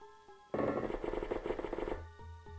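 A sustained burst of rapid gunfire erupts as reaction fire in a tactical video game, a rattling stream of shots lasting about a second and a half over quiet ambience.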